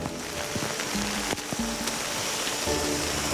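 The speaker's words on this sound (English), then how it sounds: "when we bring in our own rain, we pound a lot of water out" Artificial rain pounds down on a winter film set in British Columbia during the making of The Twilight Saga: New Moon (2009), a steady, dense hiss of falling water with a faint tonal hum underneath.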